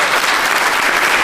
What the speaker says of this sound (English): that's actually a normally built up clap